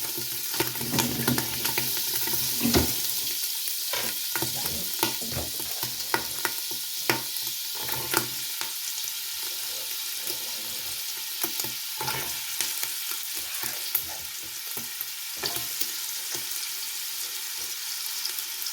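Carrots sizzle in four tablespoons of melted butter in a pot, with a continuous close frying hiss and repeated clattering, scraping strokes of a spoon stirring them throughout, no voices.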